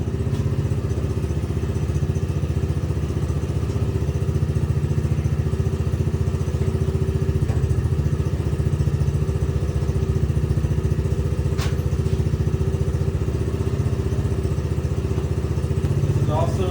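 A Tao Tao 110 mini quad (the pink one) warming up: a steady, loud mid-pitched engine idle with a busy, rattling putter holding constant throughout, close to the listener.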